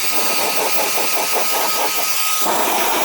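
Steady high-pitched whine and rushing air from a Roedix R8 cordless air blower running on high, close and continuous with a slight pulsing.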